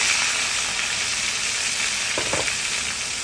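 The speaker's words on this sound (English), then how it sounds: "So we're gonna let it fry," Fish frying in hot oil for a stewed fish dish, a steady loud broadband sizzle filling the whole stretch, with a couple of brief sharper crackles near the end and no talking.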